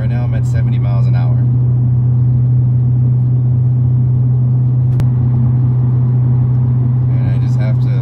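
A BMW E90 328i with a dual exhaust conversion drones steadily at about 2,500 RPM while cruising at 70 mph on a freeway, a loud constant low hum filling the cabin, with a brief voice near the start and end.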